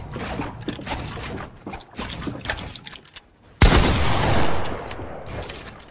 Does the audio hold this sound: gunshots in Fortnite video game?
yes